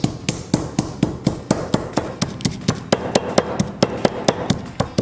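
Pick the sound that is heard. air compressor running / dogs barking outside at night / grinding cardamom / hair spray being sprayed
grinding cardamom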